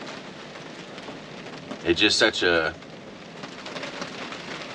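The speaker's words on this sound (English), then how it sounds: "wonderful sound and feeling you get when you're out in the rain camping like this" Steady rain pattering on a truck at a rainy campsite, a constant soft hiss throughout, with someone speaking briefly over it.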